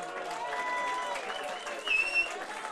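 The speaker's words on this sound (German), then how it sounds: "Applaus bitte." A crowd at a spring festival folk music show applauds as a band comes on stage, with broad continuous clapping mixed with a few whistles or whoops, swelling briefly near the end.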